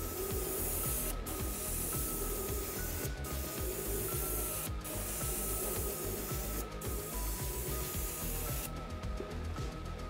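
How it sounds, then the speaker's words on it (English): A master airbrush sprays red paint onto the body of a Ford Pinto no-prep drag car, a continuous close airy hiss with a few brief breaks in the spray. "Now I am using a master airbrush."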